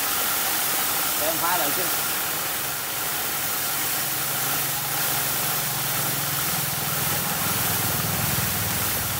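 A homemade car wash pressure washer motor runs with a continuous droning hum and hiss at steady loudness, while someone speaks briefly over it early on.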